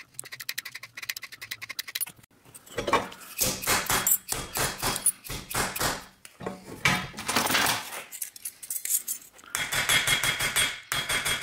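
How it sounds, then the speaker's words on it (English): A dull cross peen hammer strikes copper sheet metal while a copper rose is shaped without welding, giving a string of sharp, metallic, irregular taps in bursts that come close and loud with brief pauses. "Use a dull cross peen hammer is what I like."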